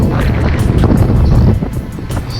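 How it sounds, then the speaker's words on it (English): Strong, loud storm wind tears across an open beach and buffets the microphone in a constant, roaring rush with gusty swells and no letup. "the forecast is 80km winds of 100 gusts"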